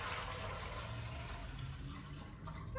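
Cold filtered water from a fridge pours steadily into a cup, a continuous close, gentle splashing trickle with no talking.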